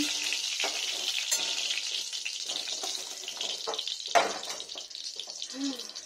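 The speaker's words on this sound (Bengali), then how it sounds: "এরকম ফ্রাই করলাম, এভাবে ফ্রাই করতে হবে।" Cauliflower fries in white oil in a pan, a soft continuous crackling sizzle with a few brief stirring knocks, heard close and alone.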